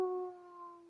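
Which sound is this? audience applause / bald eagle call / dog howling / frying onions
dog howling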